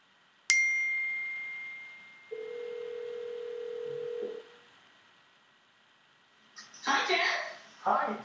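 An Apple Watch places a cellular phone call: a sharp ding with a sustained tone, then a steady lower ringback tone for about two seconds, followed after a pause by a voice answering.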